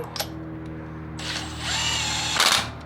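A power tool tightening wheel lug nuts on a Toyota Corolla buzzes in short bursts close by, with a sharp clatter at the start and a louder whirring burst near the end.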